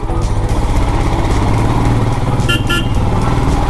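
A motorcycle pulling away in first gear on a mountain road, its engine a loud, close, steady throbbing drone that holds through the clip, with a brief higher tone near the end and no talking.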